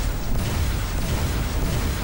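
Explosions from a video game space battle as shots strike a large turret on a destroyer, a dense continuous rumbling boom with low-end roar throughout, loud and without talk.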